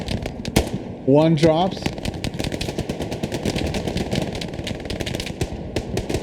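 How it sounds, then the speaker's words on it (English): Rapid bursts of machine gun fire with sharp cracks and scattered shots in the World War II video game Hell Let Loose, loud and dense throughout, with a brief voice line partway. "Immediately, machine gun fire erupts again."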